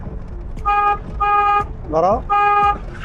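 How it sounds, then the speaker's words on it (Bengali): A vehicle horn sounds in four loud, steady blasts, one of them wavering, on a busy Dhaka–Sylhet highway near a bus stop during a driving lesson, with a voice speaking between the honks. "হর্ন বাজাও"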